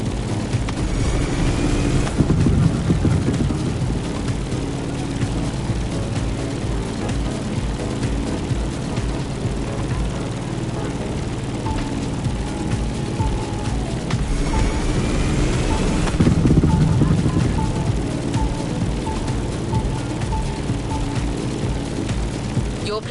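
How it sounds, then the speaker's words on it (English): Sivco Edge aerobatic plane in The Crew Motorfest flying low and fast, a continuous loud engine drone with two swelling passes as it sweeps by, under a voice talking. "Your plane, the Sivco Edge, will be ideal for that ride"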